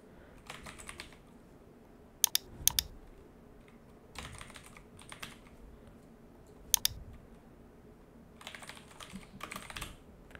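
Poll options being typed on a computer keyboard, with bursts of quick, close key clicks separated by short pauses and a few louder isolated taps.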